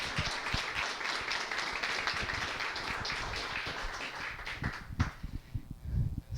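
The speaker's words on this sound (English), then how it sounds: "can we stand up and give an applause for Steve Jones, who's here to speak with us" An event audience applauds a guest speaker at a startup meetup, dense clapping building then thinning into scattered claps and shuffling near the end.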